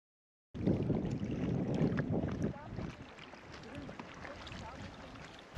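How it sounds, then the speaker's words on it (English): Wind gusting by a frozen lake in open landscape, a strong rushing buffet on the microphone at first that settles into a lower, steady blustery roar. "You can hear the wind."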